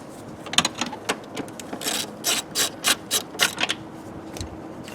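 A ratchet with a 15mm 12-point socket turns a bolt inside a 2002 Suburban, close and fairly quiet, in a string of short rhythmic clicking strokes.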